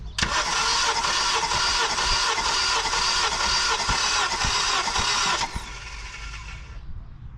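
A rebuilt turbocharged 8th-generation Honda Civic engine cranking on the starter during a compression test, a loud steady rhythmic churn for about five seconds before easing off into a lower hum.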